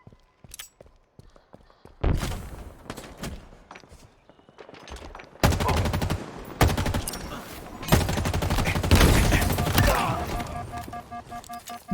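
Assault rifle gunfire in a Halo Infinite match: quiet scattered shots at first, then several loud, close bursts of rapid automatic fire with thuds in between and brief pauses separating the volleys.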